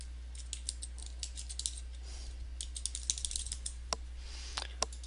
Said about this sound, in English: now I can't type correctly